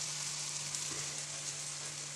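A dense, steady sizzle of chopped vegetables frying in hot oil, constant hiss with a low hum underneath and no talking.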